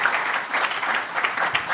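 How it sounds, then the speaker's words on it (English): An audience claps for a panel at a symposium in Copenhagen, a sustained round of applause with a fairly even texture that swells slightly in places. "Please give them an applause."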